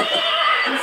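A horse neighs loudly and close by, one sustained whinny lasting under a second, with no talk over it.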